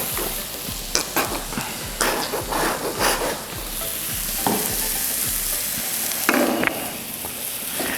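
Aderezo sauce base sizzling and frying in several pans over low heat, a steady crackle broken by sharp scraping stirs and clanks of a ladle against the pans, close by with no talk.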